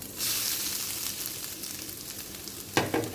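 Grated coconut roasting in a pan over a low flame, with a soft, steady sizzle close by and a couple of louder scraping stirs near the end.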